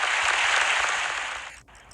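An Oscars ceremony audience fills the hall with thick, sustained applause that holds strong, then tapers and drops away abruptly near the end, leaving a quieter tail.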